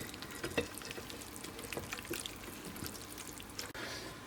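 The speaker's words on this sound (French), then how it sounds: "Et on va pouvoir verser donc toute la farce." Tortilla-style omelette filling being poured and scraped from a bowl into a lightly oiled gratin dish, a soft continuous wet slop with scattered clinks and taps, close and moderately quiet, no talking.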